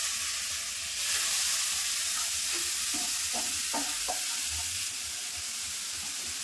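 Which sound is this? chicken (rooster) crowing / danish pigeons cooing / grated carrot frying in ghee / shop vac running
grated carrot frying in ghee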